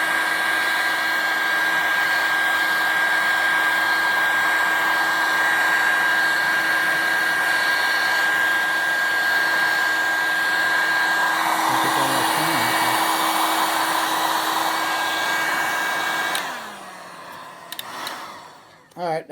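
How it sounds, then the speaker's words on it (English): A heat gun blows steadily on a John Deere 100 series tractor part, a loud continuous whooshing roar with a fixed hum that holds for about sixteen seconds and then shuts off, followed by quiet rustling. "Now I started with the heat gun."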